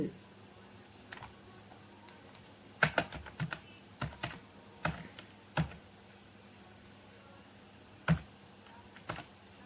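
A computer keyboard being typed on to enter an author's name and book details, heard as about a dozen sparse, close keystrokes and short bursts of clicks spread unevenly over quiet room tone.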